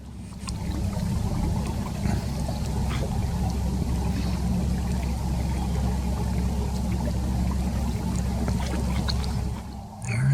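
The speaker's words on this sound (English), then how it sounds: "the rain continues to come down" Steady rain pours down on a cold, damp day on Celina Lake in Hoosier National Forest, a constant dense hiss and patter around a fishing boat, with a voice faintly in the background.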